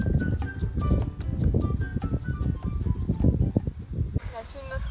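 Horses clip-clopping nearby on a summer walk with a dog, irregular hoof thuds mixed with outdoor rustle, while a person talks over them throughout; faint whinny-like tones near the end.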